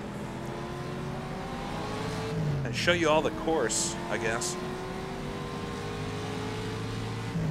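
A 1956 Ferrari race car with a four-speed gearbox drones steadily on the Monza oval in the rFactor 2 racing game, its engine note climbing and shifting while someone talks over it.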